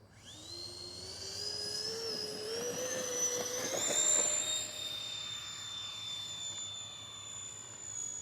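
FMS 70mm A-10 Thunderbolt II V2 RC electric ducted-fan jet taking off: a whining fan rises steadily in pitch and loudness, peaks as it passes, then settles into a high sustained whine that slowly fades.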